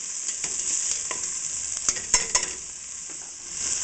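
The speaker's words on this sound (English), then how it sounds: "we're just getting a quick saute on that" Chopped celery and green onions sauté in hot bacon fat in a pan, giving a steady, close sizzle and crackle with a few sharper pops and stirring clicks, and no voices.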